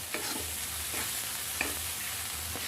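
Stuffed pointed gourd fries steadily in oil, a soft continuous sizzle with a few light stirring scrapes scattered through, close and fairly quiet.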